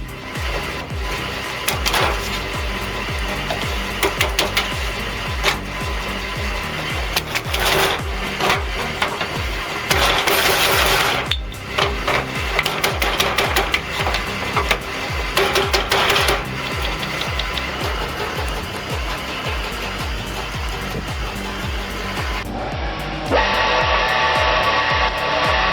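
A large firewood processing machine, driven by a 4.5 kW motor through a 140:1 worm gear, splits big chunks of wood into kindling with steady rhythmic mechanical pounding and grinding that runs loud and continuous throughout.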